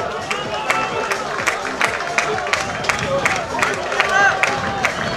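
A stadium crowd claps and cheers for women's 400 m runners in the final 100 metres at a national senior athletics championship, with sharp rhythmic clapping, a busy hubbub and a commentator talking over it.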